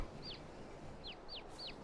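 Chickens in Farming Simulator 22 give four short, high chirping calls over a steady low hum of background noise, with no talk.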